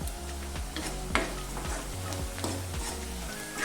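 Onions fry in a pan for restaurant-style chicken handi, a continuous soft sizzle broken by a few scraping stirs, with background music tones running underneath.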